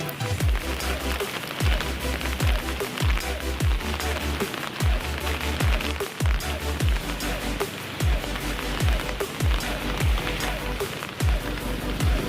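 Steady rain patters on surfaces through a windy, rainy-season day, a dense continuous wash broken by repeated low thumps and knocks.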